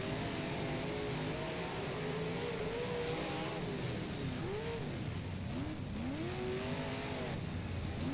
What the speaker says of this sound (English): So that's a car that's moving forwards